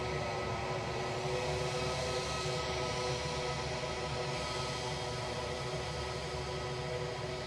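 An EasyJet airliner departing Edinburgh airport for Bordeaux, a steady, broad jet roar that holds loud and constant throughout with no voices.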